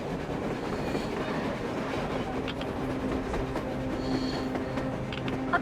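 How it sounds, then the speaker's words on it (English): A train rumbling along on the surface in the video game Metro Exodus, a steady low roar with a faint tonal whine, continuous and moderately loud throughout, with no talk over it. "A train! A damn train on the surface!"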